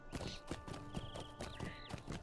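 Horse hooves clip-clop at a quick riding pace in the Lord of the Rings Online game, a stable master's mount, with steady rhythmic hoofbeats close by, mixed with game sounds and a brief whinny-like tone.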